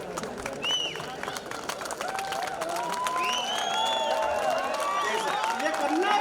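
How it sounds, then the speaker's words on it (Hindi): Applause and cheering from a large audience at a comedy poetry gathering in Ujjain, a steady dense clatter of many hands with crowd noise running continuously throughout. "तुम ताली क्यों बजाओ?"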